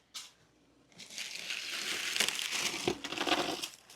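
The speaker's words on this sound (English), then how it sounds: "We have corrugated paper." Corrugated paper packaging crackles and crunches as it is crumpled and pulled apart while unboxing a Hermès pouch, a sustained, close, noisy rustle after a brief initial crinkle.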